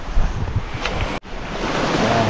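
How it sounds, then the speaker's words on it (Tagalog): Waves wash in at a seashore beside rock formations, a steady roar of surf with wind buffeting the microphone and a brief dropout midway, no voices heard. "Dito muna tayo sa tabing dagat."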